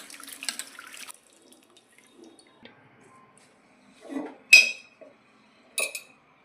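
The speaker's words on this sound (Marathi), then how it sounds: "आता ते स्वच्छ धुवून मस्तपैकी छान 3 पाण्याने." Bitter gourd pieces being washed in a bowl of water, with soft intermittent splashing and sloshing, then two brief clinks of a utensil against a vessel among longer quiet gaps.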